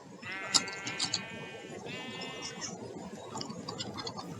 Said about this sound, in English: So I got a disco sheep.